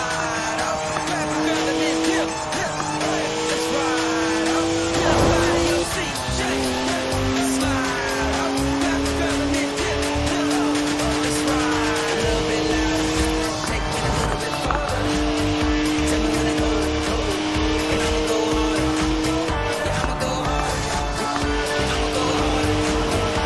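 A BMW in Forza Horizon 4 drifts with sustained, loud tire squeal and skidding over a roaring engine, the pitch sliding and shifting as the car slides on, with a voice speaking over it.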